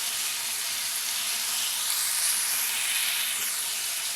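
Prawns and ridge gourd fry in a pan, giving a steady, close sizzle and hiss with no talking over it.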